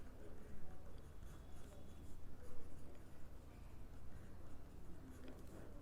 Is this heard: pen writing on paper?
yes